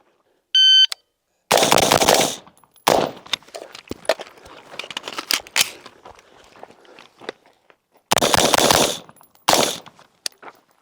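Rifle fire from an HK or Daniel Defense rifle during a timed training drill: a beep from a shot timer, then bursts of close, loud gunshots in quick succession, with pauses and clatter between them.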